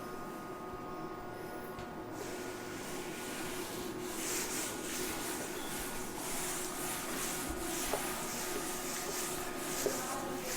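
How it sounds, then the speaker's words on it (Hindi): Physics writing being rubbed off a board during a lesson on electric dipoles: a continuous dry rubbing and scrubbing noise, steady and moderately close for about ten seconds, with no talk. "तो रब कर लें।"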